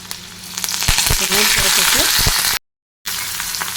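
Ginger and curry leaves fry in a hot pan with green chilies, a loud, close crackling sizzle punctuated by clinks and stirring strokes, with a brief voice in the middle and a short silent gap near the end.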